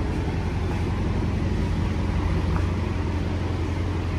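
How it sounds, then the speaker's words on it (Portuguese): Steady low engine and exhaust rumble from a Volkswagen Passat, droning continuously and loud with no talk over it. "Caraca, o barulho desse carro"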